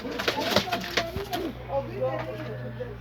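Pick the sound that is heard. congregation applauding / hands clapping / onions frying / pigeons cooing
pigeons cooing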